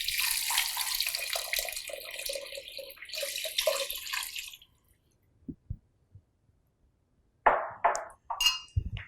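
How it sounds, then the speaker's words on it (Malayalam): Water poured into a pot over chicken pieces for a chicken spaghetti casserole: a steady gurgling pour for several seconds, then quiet with a few drips and short splashes near the end. "ഈ ചിക്കൻ മുങ്ങിക്കിടക്കത്തക്ക വിധത്തിൽ വെള്ളം ഒഴിക്കണം"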